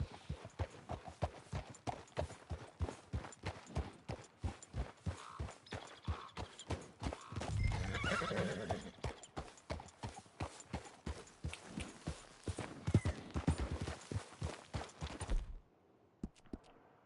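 Horse hooves clip-clop at a steady walking pace in Red Dead Redemption 2, a long run of close, even footfalls, with a brief louder stretch partway through before the steps stop near the end.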